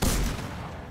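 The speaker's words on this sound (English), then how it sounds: "There's like a target in there, so I'm gonna be trying to shoot it and see what it will do." Gunfire at a target in a Stranger Things video game, one sharp close blast whose rumbling tail dies away within a second.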